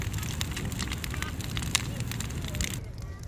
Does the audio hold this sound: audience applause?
no